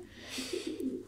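Soft, low cooing from a crossbreed of racing pigeon and white-tailed pigeon, several rolling coos in a short rhythmic series, faint and close in a quiet loft.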